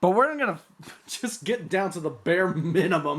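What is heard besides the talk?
No everyday noise stands out behind the speech.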